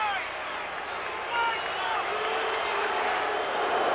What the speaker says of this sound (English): Crowd still reacting to that call, and a good one by the officials